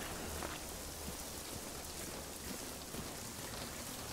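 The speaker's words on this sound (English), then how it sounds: "I don't like the rain." Steady rain pours in the Generation Zero video game, a dense, even hiss of drops on surfaces filling the whole clip with no voices over it.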